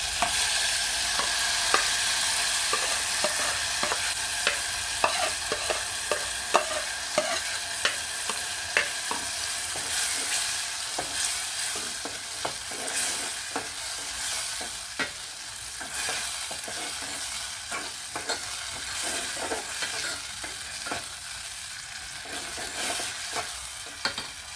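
Blended ingredients for Kenyan beef pilau fry in a pot, a sustained crackling sizzle broken by frequent scraping stirs, close and steady with no talk.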